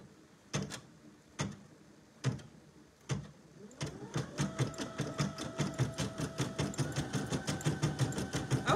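A Brother PE 800 embroidery machine starts with a few separated thumps, then settles into steady, fast rhythmic stitching with a mechanical whine rising beneath, close and clear with no talk.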